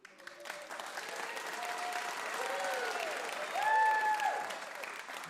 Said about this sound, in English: And then you're going to applaud real loud.